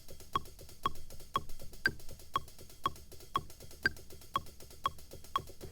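A metronome ticks steadily, about two clicks per second, with slightly stronger accented beats every few ticks, close and clear against near silence; no counting voice is evident.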